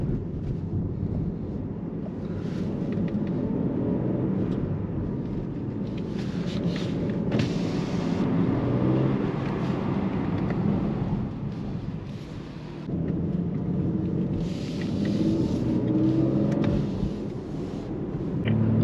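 2023 BMW M3 G80 driving with its exhaust open in sport mode, a deep droning engine and exhaust note that swells and dips with throttle, with scattered sharp pops.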